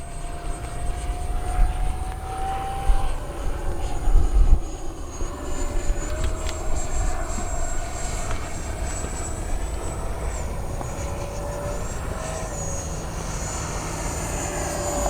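An XFly F-35 RC jet flies with a steady, sustained ducted-fan whine and a rising and falling tonal pitch as it passes, loud and continuous with no talk.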